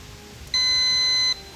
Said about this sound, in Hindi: टीम होशियार ने बजर दबाया है